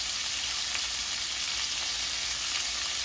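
Green and red capsicum and onion are sautéed in a pan, giving a dense and steady close-up sizzle with no talking.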